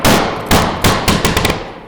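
A laboratory impact test machine strikes with roughly 50 foot-pounds of energy, producing a burst of loud, sharp bangs: several heavy cracks followed by a quick rattling series of smaller knocks fading out, no speech.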